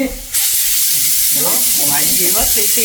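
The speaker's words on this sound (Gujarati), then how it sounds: "મેં તો વઘારેલ ખીચડી મૂકી છે એટલે સીટી વાગે છે" A pressure cooker cooking khichdi whistles, bursting into a loud, continuous steamy hiss that holds steady throughout, with a voice talking faintly underneath partway through.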